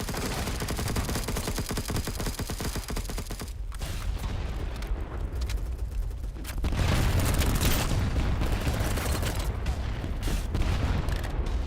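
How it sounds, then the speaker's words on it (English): Dense, rapid gunfire rattles nonstop in the shooter game Battlebit, and a heavy grenade blast booms midway before the shooting carries on, louder than before. "Okay, I guess we're gonna throw a grenade."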